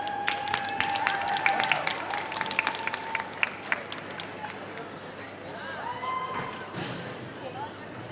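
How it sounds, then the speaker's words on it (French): Audience applause and scattered claps for a cosplayer's entrance at a Sunday cosplay contest at the Cambrai manga fair, a dense burst of clapping that thins and fades over several seconds, with a crowd murmur underneath. "Veuillez l'applaudir bien fort."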